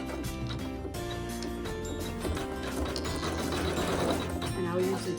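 A sewing machine stitches a quilt with a continuous mechanical whirring and clatter of the needle at close range, its pace rising slightly toward the end. No voices are heard.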